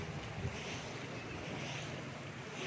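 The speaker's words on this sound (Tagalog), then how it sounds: "Pero malakas pa rin yung tubig." Floodwater rushes through a flooded barangay in Baras, Rizal during Typhoon Ulysses, a continuous broad roar of moving water with wind buffeting the microphone, steady and fairly distant, with no talking.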